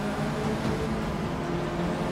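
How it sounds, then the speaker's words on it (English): Continuous roar of race car engines in the racing game Forza Motorsport 6, hood view, loud and steady throughout, with a faint high whine riding on top and no voices. "Oh, listen to these beautiful cars."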